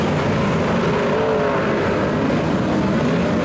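Modified race cars of the North Island Modified Champs bunch together into the first turn, a dense, continuous roar of multiple engines filling the scene from start to finish with no break.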